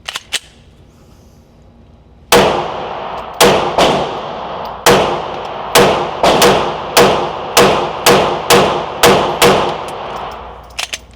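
An HK VP9 pistol empties the rest of its magazine in about a dozen loud, sharp gunshots, fired in an uneven rhythm of quick pairs and short pauses, each crack ringing out briefly before the next.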